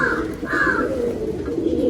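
Pet Teddy and Haifa pigeons coo nearby in a steady, low, throaty murmur with a couple of louder rising coos over it.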